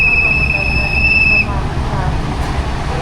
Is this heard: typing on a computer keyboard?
no